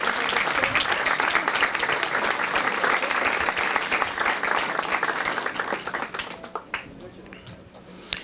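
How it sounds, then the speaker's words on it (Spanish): An audience at a book presentation on corruption in Mexico claps in sustained, dense applause that holds steady, then thins out and tapers toward the end. "Un aplauso, por favor."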